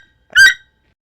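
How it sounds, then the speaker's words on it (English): A cartoon toucan gives one short, loud, squeaky call that stands alone in silence. "toucan"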